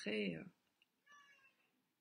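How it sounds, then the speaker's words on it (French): A domestic cat meows, a short loud cry at the start, then a softer, thinner mew about a second later, close by in a quiet indoor room. "comme d'habitude le chat a décidé de s'en mêler"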